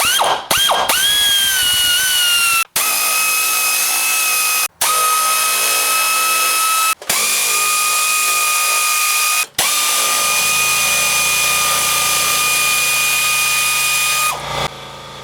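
Power tool with a ratcheting whine runs in several long bursts, separated by brief stops, while removing 10mm splash shield bolts from the underside of a 1999 Pontiac Grand Prix GTP; loud and close, with no talk.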